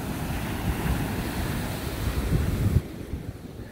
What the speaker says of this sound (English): Not much waves out today.